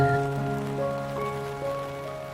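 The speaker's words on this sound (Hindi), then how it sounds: "बारिश की बरसती बूंदों ने जब दस्तक दी दरवाजे पर" Raindrops fall in a steady hiss and patter beneath sustained musical tones, continuous and moderately loud throughout with no talking.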